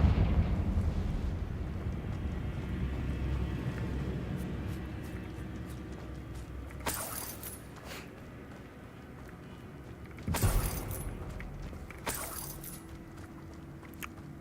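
A Confringo blasting spell from Hogwarts Legacy sets off several sharp explosive bursts over a low rumbling background, with three distinct blasts spaced across the stretch and nobody talking.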